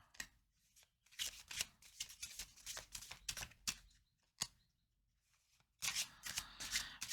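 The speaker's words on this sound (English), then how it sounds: "Let's get some Kipper cards." Kipper fortune-telling cards are shuffled by hand in quiet, close bursts of riffling and flicking, separated by short pauses.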